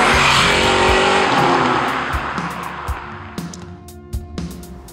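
A 1965 Ford Mustang Fastback drives close by, its loud engine roar fading over a few seconds, with faint tire noise and no talk.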